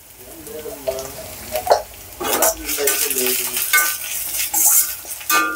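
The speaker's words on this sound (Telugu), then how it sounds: "అల్లం వెల్లుల్లి పేస్ట్ పచ్చివాసన పోయేంత వరకు వేపుకుందాం." Ginger garlic paste and curry leaves sizzle in hot oil for carrot rice, with a spoon scraping and clinking against the pan in uneven strokes, close and fairly loud.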